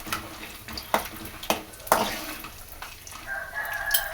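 Chana dal and peanuts are stirred and fried in oil in a pan: a series of scraping spoon strokes over a soft, continuous frying hiss, close by and fairly quiet.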